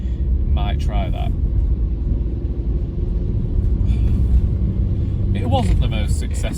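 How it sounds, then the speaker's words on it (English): Steady low road rumble from inside a moving car as another vehicle overtakes on a quiet road, with a continuous engine drone and brief voices or chirps over it. "We're being overtaken"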